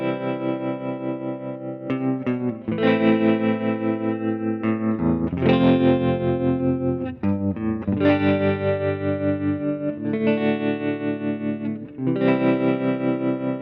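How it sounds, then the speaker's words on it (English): Electric guitar played through a tremolo effect on a Fractal Audio AX8 unit, a sixties-style tone: sustained chords and notes pulse in steady rhythmic waves of volume, loud and close, with short breaks between phrases and no talking. "So next on the list is the tremolo."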